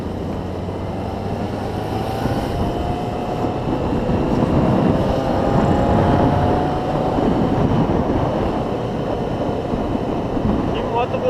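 A Triumph Tiger motorcycle ridden on a road near Itu, São Paulo, its engine droning steadily under heavy wind rush, with a voice talking over it.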